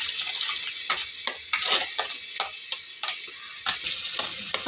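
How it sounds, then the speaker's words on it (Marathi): Cashew-based masala paste frying in a kadai while being stirred, giving a steady sizzle broken by repeated sharp scraping strokes at an even rhythm, close up and with no talk. "तर हे सारखं हलवत राहायचंय"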